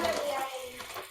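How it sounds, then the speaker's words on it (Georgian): Water runs from a kitchen tap for washing, a soft, close hiss of flowing water that lasts about a second. "წყალი გამოვუშვი და მანდ გარეცხი."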